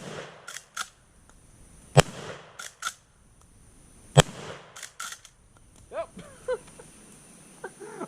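A Winchester 1887 lever-action shotgun fires two loud, sharp shots a couple of seconds apart, with quieter clicks and clatter of the action being worked between them and faint bird chirps after.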